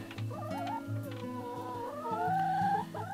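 Backyard chickens clucking nearby, a steady stream of soft, warbling calls and short clucks that rise and fall continuously over a quiet background.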